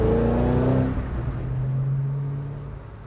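A 2013 Ford Mustang Shelby GT500 Boss 302 accelerates on the road, its exhaust rising in pitch, then settling into a lower steady drone that fades slightly toward the end.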